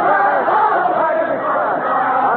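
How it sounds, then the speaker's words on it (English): A large crowd sings together at the storming of the Bastille, Paris, 14 July 1789, a loud, continuous mass of voices filling the whole moment. "The crowd is still singing. I hope you can hear them."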